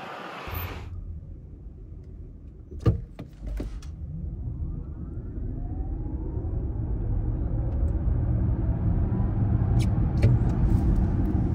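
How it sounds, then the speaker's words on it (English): An Audi Q8 e-tron electric SUV accelerates hard, a steady low road rumble and tyre roar swelling gradually louder over several seconds, with a couple of brief clicks early on and no engine note. "let's see what it does on a little sprint"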